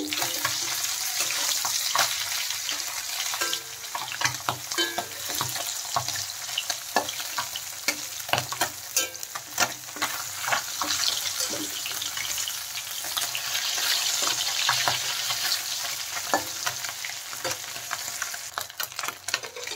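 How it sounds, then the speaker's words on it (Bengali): Flipped fish pieces crackling in hot mustard oil, a continuous loud sizzle dotted with frequent sharp spits and pops throughout, with no talking. "মাছগুলো এক সাইড ভাজা হয়ে গেছে,"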